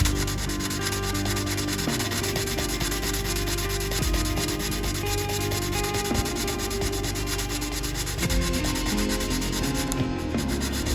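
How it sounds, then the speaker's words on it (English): A sanding stick works steadily over cardboard in a zipper repair, producing a continuous close scraping rasp with rhythmic back-and-forth strokes and no talk. "Take the sanding stick again and just kind of"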